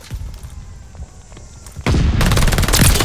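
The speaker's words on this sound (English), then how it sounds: "Allies calling a mortar barrage." A mortar barrage in the Call of Duty Vanguard video game hits as a sudden loud, dense roar of blasts and gunfire, after quieter battle noise with scattered shots in the opening seconds.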